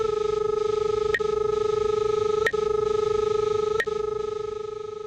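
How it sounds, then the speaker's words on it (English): Steady electronic feedback tone from a Ridgid SR20/SR24 utility locator, a continuous pulsing beep that stays level and fades slightly at the end, with three brief clicks breaking it, close and with no voices. "The audio pitch is tied to the proximity signal. It increases when the proximity signal increases and decreases when the proximity signal decreases."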